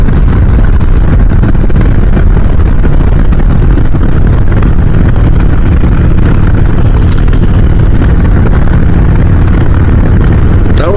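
Loud, steady engine drone of a motorcycle running continuously, heavy low rumble with wind-like roar and no breaks, close to the microphone.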